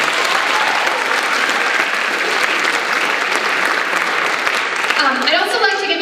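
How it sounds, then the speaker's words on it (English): An awards show audience at a performing arts event applauds the winners, dense sustained clapping throughout, with a voice starting to speak at the very end. "Let's give a round of applause for all those award winners as well"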